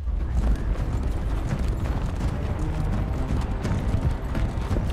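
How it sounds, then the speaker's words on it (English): A horse gallops during a fantasy TV drama scene, a dense rumble of hoofbeats with rhythmic thuds under a steady background roar. "Who was that horse rider in the back just like tearing ass?"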